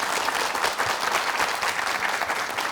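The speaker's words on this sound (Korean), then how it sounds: "박수 칩시다" Studio audience on a Korean morning talk show applauds in a brief, even burst of dense clapping, fairly moderate in level and continuous throughout.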